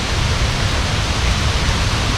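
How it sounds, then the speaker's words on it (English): Loud, steady roar of rushing floodwater during a flash flood on the Pipiwai Trail near Waimoku Falls in Hawaii, a dense broadband wash that fills the whole clip with no voices. "the sound of the flash floods."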